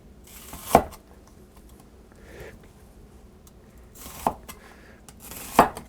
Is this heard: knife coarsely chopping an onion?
yes